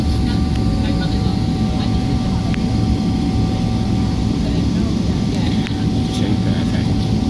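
A Qatar Airways airliner landing at Heathrow Airport, London, heard from inside the cabin as a steady, loud engine and airflow roar with a constant hum, unbroken throughout.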